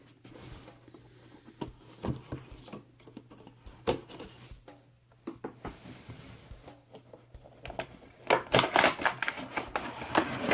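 Plastic packaging of a Star Wars Black Series Kylo Ren action figure being cut open, a run of close, sharp snips, crinkles and taps that grows busier and louder toward the end.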